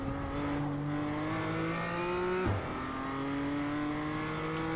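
A race car engine drones steadily at high revs, briefly dipping with a gear shift before climbing again, sounding synthetic and continuous.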